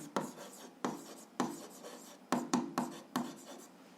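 A pen scratches across paper in short repeated strokes, close and distinct, as something is written down during an algebra lesson.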